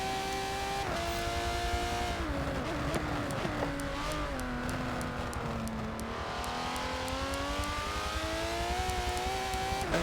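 Aston Martin DBR9 race cars roar through a racing video game at the Nürburgring GP circuit, engines droning continuously with rising and falling pitch through gear changes and corners, loud and steady with no talk.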